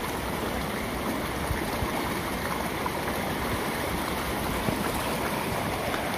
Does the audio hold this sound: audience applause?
no